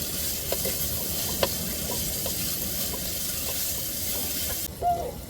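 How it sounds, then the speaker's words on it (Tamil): Onions sautéing with salt in a pan for a goat intestine curry, heard as a steady, close sizzle and hiss with occasional small pops and a brief stir toward the end. "வெங்காயம் வதங்குறதுக்கு நம்ம கொஞ்சம் உப்பு சேர்த்துக்கிறோங்க அப்போ தான் வெங்காயம் நல்லா வதங்கி வரும்"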